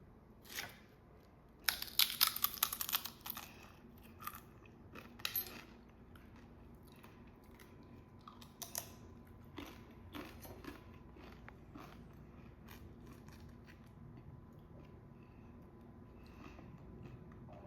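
Crunchy bites of tortilla chips dipped in homemade guacamole, eaten up close: a loud burst of crisp crunches early on, then a few softer chews and scattered clicks fading into a quiet room.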